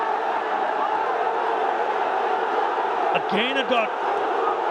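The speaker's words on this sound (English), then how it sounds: "And the crowd getting a little bit edgy" Cricket stadium crowd at a Bangladesh versus West Indies T20 match, a loud steady roar of many voices that swells slightly near the end, with a commentator talking over it.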